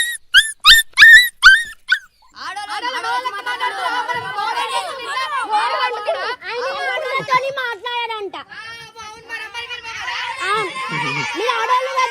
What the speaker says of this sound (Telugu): నువ్వు పామిరియన్ కుక్క అంటారు